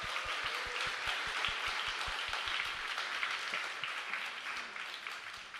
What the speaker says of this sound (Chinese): 我们再一次用个热烈掌声给我们的主日学的孩子